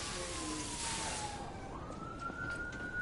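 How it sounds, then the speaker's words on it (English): A wailing emergency siren in the video game Lies of P sweeps its pitch down and then up, sounding moderately loud over a dense, noisy game background with no talking. "there's a siren"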